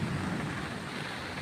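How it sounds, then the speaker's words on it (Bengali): Heavy rain pours down steadily while deep thunder rumbles low and continuous through the downpour, with no voices. "কি মেঘ ডাকছে, প্রচণ্ড পরিমাণে মেঘ ডাকছে।"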